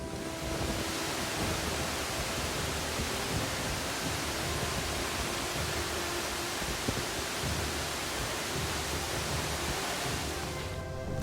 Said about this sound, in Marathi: समोरच्या डोंगरावरून कोसळणारे अनेक छोटे मोठे धबधबे त्या धबधब्यांचा आवाज